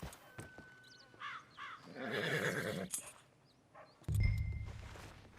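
A horse in a video game gives a loud, wavering whinny that rises and falls for about a second, with hoof clops and scattered game sounds before and after, heard close.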